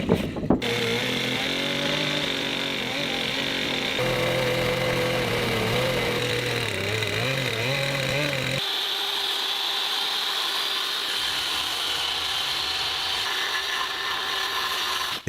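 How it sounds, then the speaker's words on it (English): A chainsaw cuts through a wooden wall to open a doorway in a handbuilt wooden house, its engine droning steadily and loudly for the whole stretch, then shifting to a higher, thinner whine partway through as the cut changes. "They are cutting the wall with a chainsaw to make space for the door."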